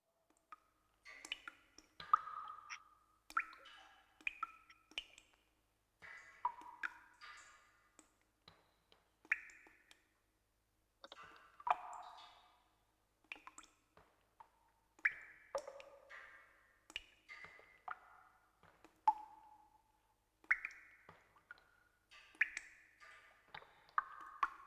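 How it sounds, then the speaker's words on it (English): Water droplets drip one at a time in a quiet space, each landing as a short bright plink or click with varying pitch, spaced irregularly over a near-silent background. "this recording of water droplets"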